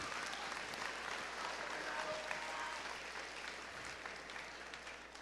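A high school crowd applauds students at an annual honors awards assembly. The clapping is steady and distant, with a faint crowd murmur under it and no break.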